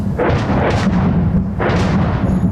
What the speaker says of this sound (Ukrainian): Інтерв'ю перервали гучні вибухи. Почався обстріл.